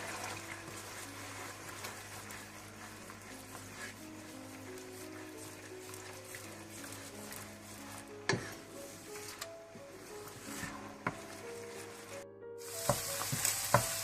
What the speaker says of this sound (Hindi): इसको अच्छी तरह से टमाटो प्यूरी को भून लें